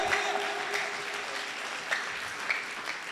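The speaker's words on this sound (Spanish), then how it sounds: "Un aplauso a Dios, amados hermanos" Steady applause from a church congregation during a sermon, a dense wash of clapping with a few louder individual claps standing out, continuing evenly throughout.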